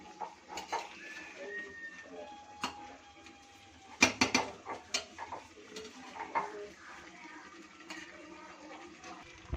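Goat meat stirred in a cooking pot in a village home kitchen, with repeated scraping, clinking of a spoon against metal and a soft sizzle underneath, in uneven bursts with one sharp clatter.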